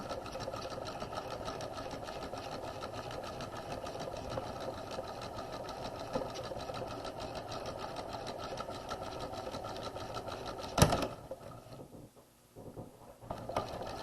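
A sewing machine runs in one steady, continuous whir while stitching a facing waistline, then ends in a sharp click and falls quiet near the end.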